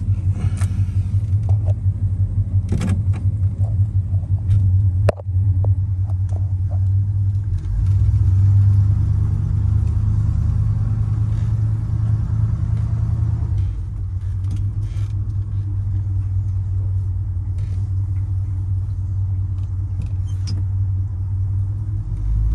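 A 1972 Ford F100 pickup truck drives around the block, its engine rumbling low and steady from inside the cab, with a few brief clunks and a shift in tone as it slows and pulls away again.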